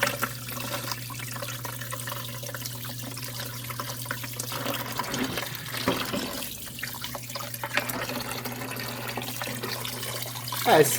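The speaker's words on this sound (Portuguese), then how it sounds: "Então a gente vai lavar, tirar aí alguns pelinhos que sobraram." Butiá palm seeds are rinsed under running water, a steady splashing stream with scattered clatters and sloshes from handling, close and continuous for about eleven seconds.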